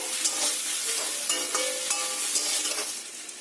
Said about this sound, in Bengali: কাঁকরোলগুলোকে ভালো করে লাল লাল করে ভেজে নেব